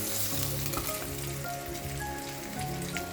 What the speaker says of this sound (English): I love it when the oil in the pan throws its little rock concert.